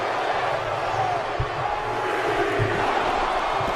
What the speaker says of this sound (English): You hear the crowd counting alongside with him.